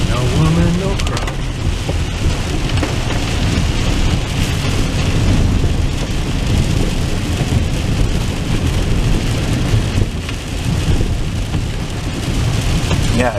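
Heavy rain drums on a car during an evening ride through Montreal, with a dense, continuous wash of noise and a low rumble from the road throughout.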